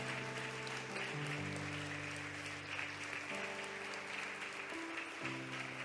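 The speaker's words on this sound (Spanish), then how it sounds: "Un aplauso, por favor, para sus varones" Church congregation applauding for the men of the congregation, steady sustained clapping throughout with music playing underneath.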